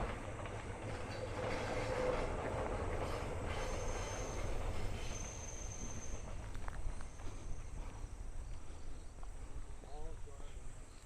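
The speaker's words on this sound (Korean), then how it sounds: "어, 기차 지나가는데. 협곡기차." The Baekdudaegan Canyon Train rolls past a mountain village in Bonghwa County, South Korea, with a steady rumbling roar, metal wheels squealing faintly at times, loud and continuous throughout.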